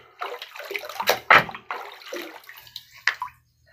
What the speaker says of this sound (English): let's rinse the stone off again